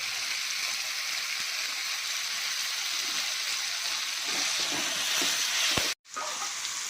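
Curry leaves hitting a hot pan with tomato for a Kerala-style egg roast, a loud broad hiss of sizzling oil that holds steady, then cuts off briefly near the end and resumes.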